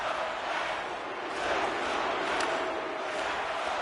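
Home crowd jeering and roaring in an NHL 25 hockey video game, a broad sustained arena din that swells slightly midway, with no clear voices standing out.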